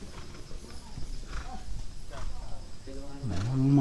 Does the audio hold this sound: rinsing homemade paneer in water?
no